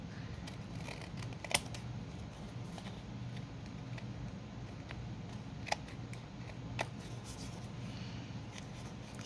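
Scissors trim a paper pocket bookmark, giving a few quiet, crisp snips spaced several seconds apart over a soft background hush.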